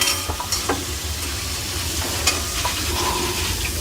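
Boondi batter frying in a pan of hot oil for kara boondi, a loud close sizzle under scraping stirs and brief clinks of a ladle, continuous from start to finish.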